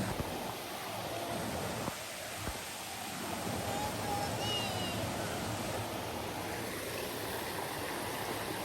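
A waterfall at a Philippine river pours in a steady broadband roar that fills the whole scene, constant and fairly distant, with faint bird chirps above it.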